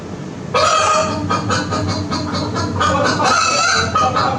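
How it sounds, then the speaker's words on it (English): A recorded chicken sound plays loudly for children during a farm-animal lesson, with a sustained run of squawking, honking fowl calls that starts after a brief quiet moment and continues steadily. "Do you want to listen to the chicken again?"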